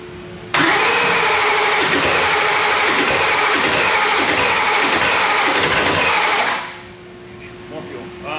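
A high-performance engine worth $100,000 fires up for the first time and roars loudly and steadily for about six seconds, then cuts off abruptly, leaving quieter shop sounds behind.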